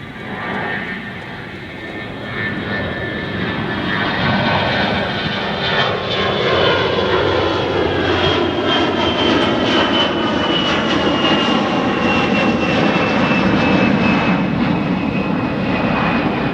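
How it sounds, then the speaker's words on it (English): A Delta Airlines Airbus A320 jet takes off from an airport in El Paso, Texas, its engine roar building from a distant rumble into a loud, sustained whine and rush that holds steady, with no talk. "Delta Airlines, Airbus A320, I believe, or A321."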